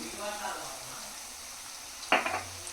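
Thinly sliced tomatoes for egg keema curry cook in a pan with a soft steady sizzle, then a brief sharper clatter of a utensil stirring near the end.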